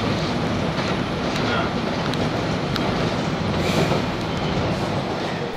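A Toronto subway train on the Yonge line rumbles steadily and loudly throughout, with continuous rail noise and faint clicks of wheels over track joints, no talk.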